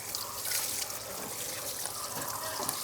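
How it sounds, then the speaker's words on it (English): Water sprays and trickles steadily over a coated car wheel during a rinse, a continuous close hiss with dripping runoff and no talking. "So let's rinse this off. Lots of black coming off of it."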